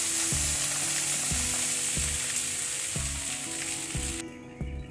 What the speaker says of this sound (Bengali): এটা আমি ভালো করে ভেজে নিচ্ছি।